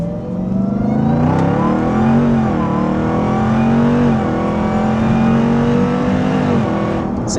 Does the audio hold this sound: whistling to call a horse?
no